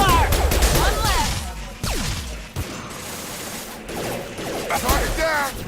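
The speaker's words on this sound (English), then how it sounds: "Taking heavy fire!" Heavy, sustained automatic gunfire in a video game battle, dense crackling volleys over a constant rumble with whooshing, swept effects in between, loud and close throughout.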